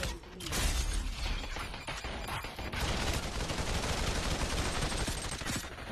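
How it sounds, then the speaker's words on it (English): Gunfire in the VR shooter Population: One, a dense, continuous volley of rapid shots that runs almost the whole time at steady loudness, with some breaks and sharp cracks near the start and no talking. "I'm shooting my own player, guys."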